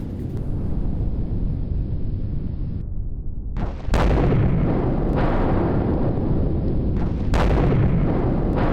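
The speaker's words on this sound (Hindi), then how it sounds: "हिजबुल्लाह के कमांड सेंटर पर गिरा ग्लाइड बम।" A glide bomb striking a Hezbollah command center in Lebanon in news footage, heavy rumbling blasts with a sharp loud explosion midway and another later, over constant wind-like roar.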